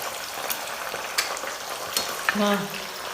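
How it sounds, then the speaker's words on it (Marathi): Potato fritters (bhaji) fry in hot oil with a soft, even, bubbling sizzle at moderate distance, broken by a few faint clinks and a brief scrape near the end. "मस्तपैकी आज बटाट्याची भजी बनवणार आहे मम्मी"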